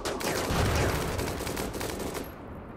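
Minigun turrets in RimWorld fire a continuous, dense stream of rapid shots, loud and sustained for nearly three seconds before cutting off.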